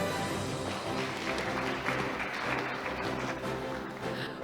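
Sustained applause from a seated audience at a bank award ceremony, a dense, even wash of clapping that holds steady throughout with no voices over it.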